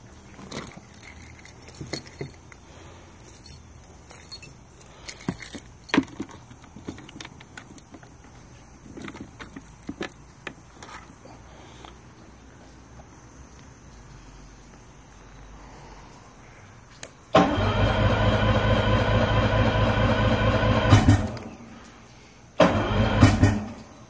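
The outboard engine on a 2001 Bumble Bee Pro Sport 290 boat with a manual choke, keys jangling before it cranks and starts loud and close, runs several seconds, cuts out, then briefly fires again.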